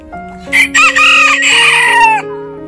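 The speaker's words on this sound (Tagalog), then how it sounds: "So ito yung manok namin" A rooster crows loudly and close by in a chicken cage, its long wavering call rising over a few quieter clucks and sustained background tones.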